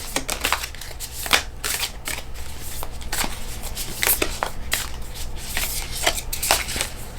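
A deck of cards is shuffled close by, with a quick series of crisp flicks and soft riffling clicks repeating irregularly over a low background hum, no speech.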